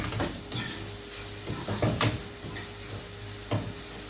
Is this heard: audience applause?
no